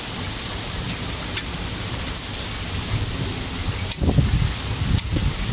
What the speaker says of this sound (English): And it's hailing outside.